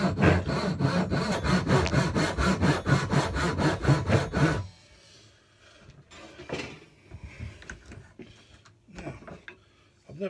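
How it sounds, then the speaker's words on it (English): A pull saw rasps through wood in a quick, steady rhythm of strokes, loud and close, then stops, leaving quieter scattered handling noises. "Let's try the old pull saw instead."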